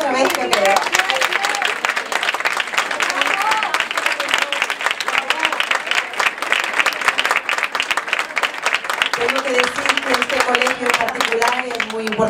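Sustained applause from a large audience at a Christmas carol contest, steady and loud throughout, with some voices faintly mixed in beneath the clapping.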